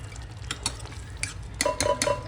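Sliced green chillies drop into biryani masala frying in a pan, giving a close crackling sizzle with several sharp stirring clinks and scrapes of utensil against pan.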